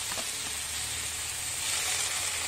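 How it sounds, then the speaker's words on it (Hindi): Tomatoes frying in a pan for honey chilli potato, giving a steady, dense sizzle and hiss that holds close and even throughout, with no talking. "टमाटो को थोड़ी देर के लिए हम इसे पकाएंगे जब तक ये पूरी तरह से पक ना जाए"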